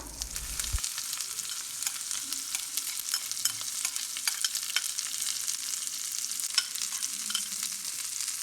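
Okra frying in hot oil with curry leaves, an even crackling sizzle that starts just after a short bump and runs on steadily, close and alone with small spattering pops.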